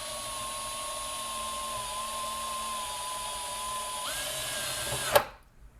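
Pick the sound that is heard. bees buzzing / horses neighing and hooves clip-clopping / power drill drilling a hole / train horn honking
power drill drilling a hole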